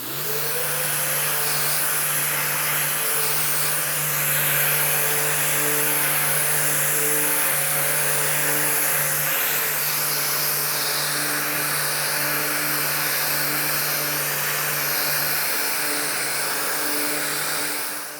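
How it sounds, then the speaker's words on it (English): Steady high-pitched whine of an electric sander flat-sanding a cabinet door continuously at close range, with a constant buzzing motor tone and no pauses. "Just allow the sander to do the work for you."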